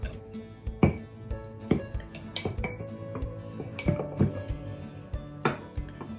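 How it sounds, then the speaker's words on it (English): Solid sourdough dough is scraped down inside a metal bread machine pan, with irregular close clinks, knocks and scrapes of a utensil against the pan. "It's balled up, it's quite solid. I'll scrape it down."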